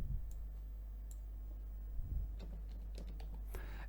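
Light clicking keystrokes on a computer keyboard, a few sparse taps then a quicker cluster near the end, faint and close over a steady low hum.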